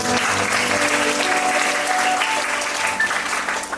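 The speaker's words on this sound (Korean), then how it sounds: "감사의 박수를 올립시다." A church congregation at a vision camp worship gathering claps in steady, dense applause of thanks, a loud and continuous patter of many hands from start to finish.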